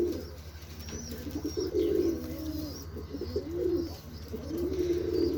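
Pigeons cooing in repeated low, rolling phrases, close and fairly clear, with a faint high chirp now and then over a steady background hum.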